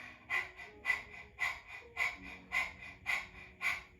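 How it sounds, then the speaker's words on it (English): Breath of fire exercise: rapid nasal panting with forceful exhales, seven evenly spaced sharp puffs about every half second, close and clear with no talking. "So panting like the dog, and your belly is pumping too."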